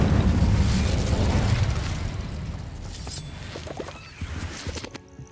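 A fire spell cast in Hogwarts Legacy bursts into a loud, broad roar of flame that slowly fades, followed by scattered crackles and small pops near the end.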